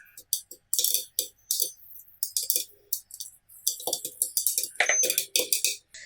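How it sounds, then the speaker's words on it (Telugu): Caramel popcorn kernels popping inside a covered pan on the stove, loud irregular bursts of crackling pops in quick clusters with short gaps, close and without talking. "పాప్కార్న్ అంతా పాప్ అయ్యేంత వరకు పాప్ చేసుకోవాలి"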